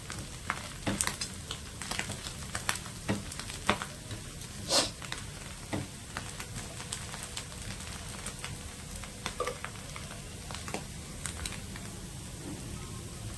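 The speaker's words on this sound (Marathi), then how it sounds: "हाय फ्लेमवर दुसऱ्या साईडने पण असं तापत" Fasting-style medu vada frying on its second side over a high flame, giving a steady crackling sizzle with scattered pops and bursts of spattering throughout. No voices are heard.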